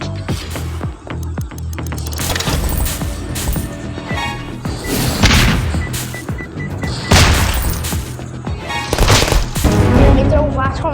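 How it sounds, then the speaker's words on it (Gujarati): Bomb explosions and gunfire from a mobile shooting video game come as loud, dense game audio, with heavy booming bursts standing out over continuous mechanical clatter. "બોમ્બનો અવાજથી."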